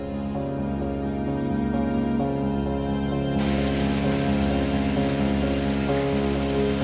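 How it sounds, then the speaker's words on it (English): A shallow stream trickles through a karst cave, giving a steady, dense watery wash that stays even throughout and grows slightly brighter midway, with no voices. "But today the water is limited to a shallow trickle."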